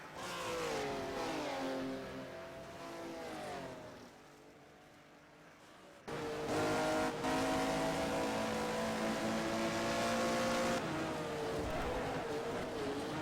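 Rear-engined race cars at Mount Panorama, loud engines revving and shifting as they pass close by, pitch climbing through gears, with a dip and then a louder surge as another car approaches.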